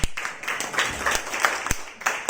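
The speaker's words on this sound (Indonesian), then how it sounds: "Tepuk tangan dong buat Prudential." An audience at an Indonesian motivational talk claps in a loose, uneven burst of applause, with sharp individual hand claps scattered throughout.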